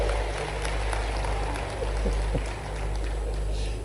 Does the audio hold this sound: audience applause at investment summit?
yes